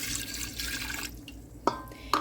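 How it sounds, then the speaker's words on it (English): Two cups of water poured into a pot of spices for hot spiced cider, a steady splashing stream that thins out, followed by a couple of sharp drips and clinks. "I'm going to add 2 cups of water"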